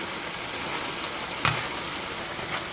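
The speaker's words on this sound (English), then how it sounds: "Let me stir this up." A spoon stirs a meat sauce thickened with xanthan gum in a hot pan, giving a soft continuous sizzle with one brief scrape or clink partway through.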